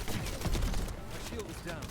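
Dense, continuous turret gunfire in The First Descendant rattles on under game voice lines, a busy stream of rapid shots mixed with other combat noise.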